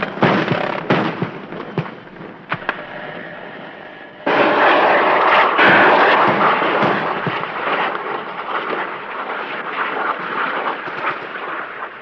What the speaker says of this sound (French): Les hélicoptères appuient leur baroud d'honneur.